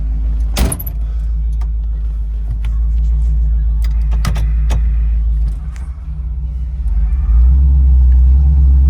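A restored 1968 Ford Bronco with a 5.0 engine runs with a loud, steady low rumble. A sharp jangling clatter comes near the start, and the engine swells stronger toward the end.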